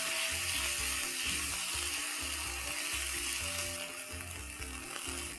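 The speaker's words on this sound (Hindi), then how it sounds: "अदरक लहसुन को अच्छे से फ्राई कर लेंगे।" Ginger-garlic paste fries in a pan for a tomato chicken dish, a steady close sizzle with low rhythmic stirring or scraping underneath, no voices.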